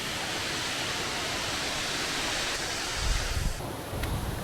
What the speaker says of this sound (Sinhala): මේ තියෙන වතුර ගලාගෙන යනවා